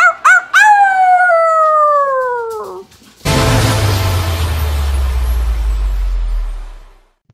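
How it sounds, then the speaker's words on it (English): Wolves at a wolf sanctuary howl in long, loud, falling tones after a few short yips, then a heavy low rumble of wind or handling noise takes over and fades out. "Raising howl to one of our beta wolves."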